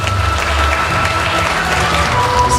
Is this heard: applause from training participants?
yes